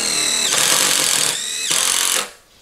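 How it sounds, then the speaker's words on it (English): An impact hammer drives screws into a metal utility trailer frame, giving loud, continuous rattling bursts close up, two long runs separated by a brief shift in tone, then cutting off. "I'm using an impact hammer to drive these"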